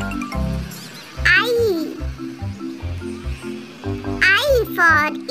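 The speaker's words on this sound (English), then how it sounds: "H for horse" Two bright horse whinnies ring out in a children's phonics alphabet song, each rising and falling over a bouncy backing tune, while a voice sings along.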